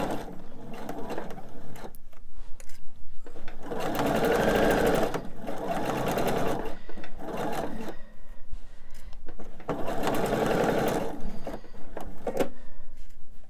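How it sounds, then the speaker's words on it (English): A domestic sewing machine stitches the final seam of a quilt project in bursts, running steadily for a few seconds, pausing, then starting again, close and fairly loud with no talking. "All right, I'm gonna get that last seam sewn."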